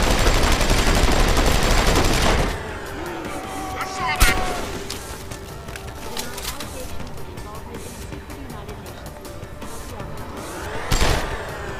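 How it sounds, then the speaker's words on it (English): Heavy rifle gunfire in the video game Deus Ex: Human Revolution, set in Heng Sha: dense rapid bursts of shots ring out loud for the first couple of seconds, then scattered sharp cracks and booms continue amid game noise. "that's a heavy rifle"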